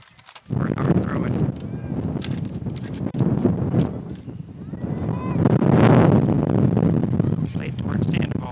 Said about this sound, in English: The wind gusting strongly now towards the Hagerstown wall.